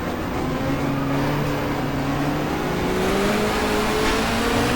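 A touring car engine in the GTR2 racing game on a 1994 Asia-Pacific championship grid full of Hondas, a loud steady drone whose pitch climbs, dips and rises again through gear changes, continuous and close with no voices.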